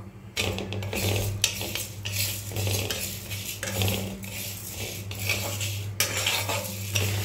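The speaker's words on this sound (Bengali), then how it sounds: "এবার মসুর ডাল দিয়ে দেবো।" Red lentils go into a pot of half-fried moong dal for khichuri and get stirred, giving close, repeated scraping and clinking of a spoon against the metal pot, with a faint sizzle underneath.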